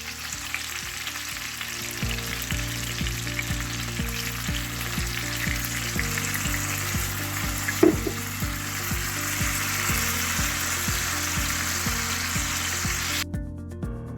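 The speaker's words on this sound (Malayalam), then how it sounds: "നമ്മുടെ സോയാ സോസ് ഒഴിച്ച് കൊടുക്കാം കേട്ടോ." Soy sauce poured into chicken in a hot pan brings loud, continuous sizzling and frying, heard close and alone, with a brief clatter midway and a steady low hum underneath.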